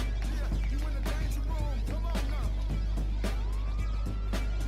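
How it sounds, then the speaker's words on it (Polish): A police siren in the video game GTA V wails in the background over a steady low hum while people talk. "Ej słyszysz to? Syreny?"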